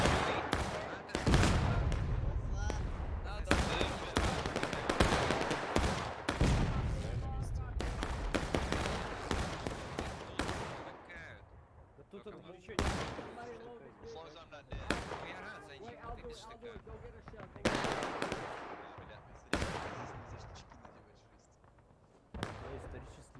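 Repeated gunshots and booming cannon blasts ring out in a video game battle around Piper Farm, sharp bursts separated by short gaps, with speech in between.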